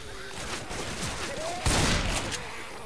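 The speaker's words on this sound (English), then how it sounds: "Just unload this entire shotgun shell capacity." A shotgun in Left 4 Dead 2 fires a blast that rings out loudly over steady in-game background noise, with a short gap before the next shot. Voices sound faintly in the game mix.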